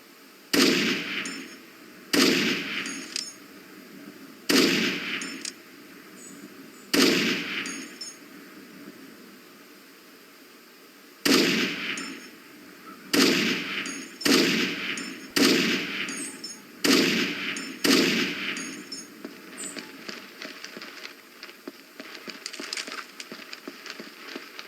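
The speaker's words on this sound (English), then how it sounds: "Practice your sniper rifle skills by firing at the targets down." Sniper rifle shots ring out at targets in the video game Rainbow Six 3: about a dozen loud, sharp cracks, each trailed by a short echo, come singly or in quick clusters with brief gaps between them.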